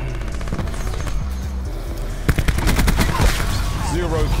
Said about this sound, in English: Shooters deploy to firing positions.